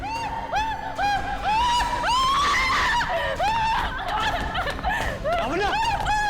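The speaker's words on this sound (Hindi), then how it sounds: "ये कैसी चीख है?" A woman screams in a crime-drama scene, a loud run of shrill, wavering rising and falling shrieks that sound almost like frantic laughter, close and continuous for several seconds.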